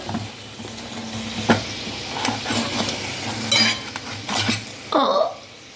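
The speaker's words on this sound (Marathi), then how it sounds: "आपल्याला हे आपण असे फ्राय करायचे आहे" French fries crackle and sizzle softly in a pan while a utensil stirs them, with intermittent metallic clinks and scrapes against the cookware.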